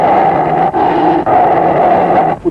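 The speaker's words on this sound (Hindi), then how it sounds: "कुत्ता अलग भौंक रहा है" A dog barks and growls loudly and continuously, with a rough, snarling tone that runs almost without pause, broken by two brief gaps before it fades near the end.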